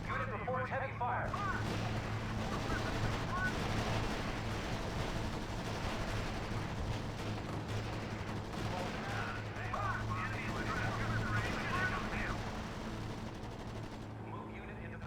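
Gunfire and artillery in the World War II strategy game R.U.S.E. during the D-Day Utah Beach mission, with continuous dense crackling small-arms fire and distant booms forming a steady battle din under intermittent radio-style voice reports.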